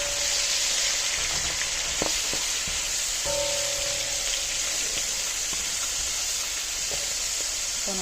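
Frozen spinach sautés in a pan with a loud, steady hiss and sizzle that holds throughout, broken by a few faint clicks and stirring knocks.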